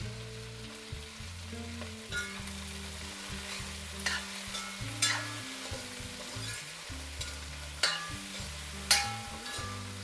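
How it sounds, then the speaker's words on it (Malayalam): Okra stir-fried in an open pan for a South Indian thoran, a spatula scraping and tossing in irregular bursts over a soft, steady sizzle, close and fairly quiet, with no talking. "ഇങ്ങനെ തുറന്ന് തന്നെ നമുക്കിത് ഇളക്കി ഒന്ന് വാട്ടിയെടുക്കേ"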